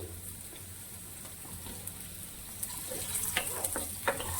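Potato pieces frying in hot oil in a pan give a continuous soft sizzle, growing a little louder with scattered crackles and pops toward the end, with no voices.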